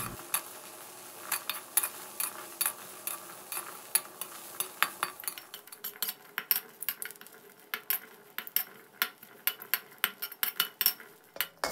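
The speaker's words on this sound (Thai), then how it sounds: "ให้เราคั่วพริกหอมกระเทียมของเราให้สุกหอมเลยนะครับ" Chillies, shallots and garlic are dry-roasted in a pan, giving soft crackles and sharp utensil scrapes and clinks that quicken into frequent, fairly quiet taps toward the end.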